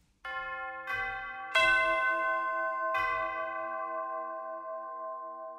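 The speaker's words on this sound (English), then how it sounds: "Here's a singular tubular bell soloed up in the spot mics patch." A tubular bell from a sampled orchestral percussion library is struck four times in slow succession, each bright metallic tone ringing out and sustaining long, heard alone and close on spot mics.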